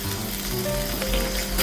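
Mirin and soy sauce poured into a hot pan for sukiyaki steak, a loud, dense, continuous sizzle heard up close for a brief moment, with no voices.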